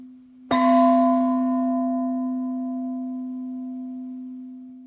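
A bowl struck once and recorded on a Google Pixel 5 phone rings out with a bright attack, then a steady, sustained tone with clear overtones that fades slowly over several seconds above faint background hiss.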